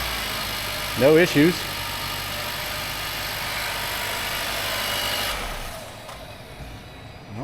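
Nissan Juke engine idling steadily after a starter replacement, a continuous close mechanical hum and rumble, with a brief voice speaking over it near the start before the engine note shifts slightly lower.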